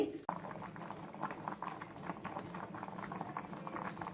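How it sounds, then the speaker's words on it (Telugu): Dal simmering in a pot on the stove, a steady close bubbling and soft popping that continues without a break after a brief knock at the start. "పప్పు ఇదిగోండి, ఈ మాత్రం ఇలా ఉడికింది కదా."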